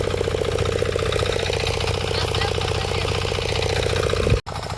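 Farm tractor on its way to plough another field, its engine chugging in a loud, steady low rumble before a brief abrupt cut near the end, then running again.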